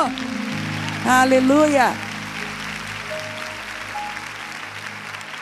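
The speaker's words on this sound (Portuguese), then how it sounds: "Você pode aplaudir ao Senhor?" A church congregation claps for the Lord in a steady wash of applause while one voice briefly calls out over it.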